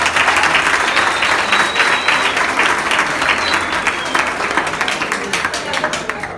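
A concert crowd gives a loud, sustained round of applause for a performer's introduction, dense clapping swelling early and tapering slightly toward the end, with a voice faintly audible beneath it.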